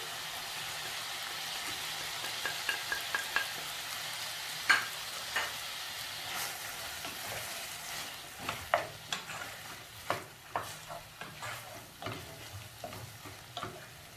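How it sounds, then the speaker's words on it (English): Garlic sizzling in a pot of browning beef for stew, a steady soft frying hiss broken by a string of light scraping stirs that grow more frequent toward the end, close and fairly quiet. "Stir for some minutes also for the garlic to heat up."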